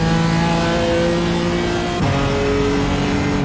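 A BMW M4 GT4 race car in iRacing at Okayama holds a loud, steady engine note at high revs, then shifts gear partway through and settles back into a sustained drone.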